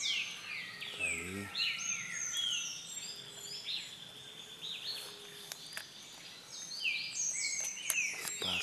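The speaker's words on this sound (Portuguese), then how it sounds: "Os pássaros estão cantando." Birds call and sing at dawn in the hills of Monte Extrema, Minas Gerais, a faint scattered chorus of chirps and whistles over a quiet insect hum, with a brief voice nearby.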